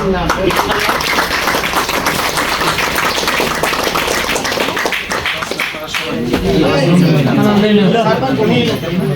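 Audience clapping in a Barisal hall at a rice distribution event for visually impaired people, steady dense applause mixed with talk throughout, loud and close.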